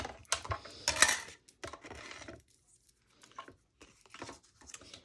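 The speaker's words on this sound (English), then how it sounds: "I'm going to use my mini cut and emboss machine," Mini cut and emboss machine cutting with a single die, heard as close clattering, rattling mechanical noise in short bursts that fades into quieter handling sounds.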